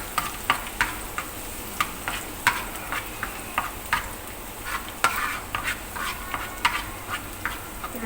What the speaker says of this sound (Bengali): এবার আমি পেঁয়াজ আর শুকনো মরিচ দিয়ে দিচ্ছি।